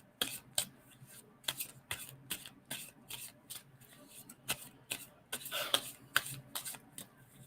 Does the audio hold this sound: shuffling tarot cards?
yes